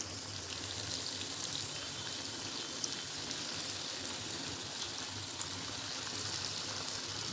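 Dal vada balls deep-frying in hot oil give a steady, dense sizzle and crackle that runs unbroken throughout, close and moderately loud with no talking.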